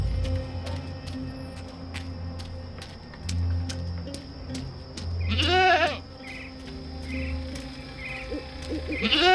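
Goat in the game Dreamfall Chapters gives a couple of wavering bleats midway and near the end, over a low ambient hum and faint rhythmic ticking, with no speech.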